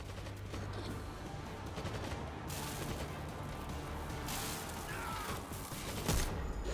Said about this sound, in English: It helps with fast shooting guns like this assault shotgun